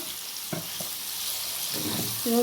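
Kalakkai (karonda berries) hit hot oil and sizzle, a steady bright frying hiss with a few small pops, fairly quiet and close.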